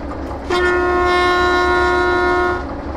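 A locomotive horn in the train simulator game Derail Valley sounds one long, steady, loud tone lasting about two seconds over a low engine rumble, then cuts off.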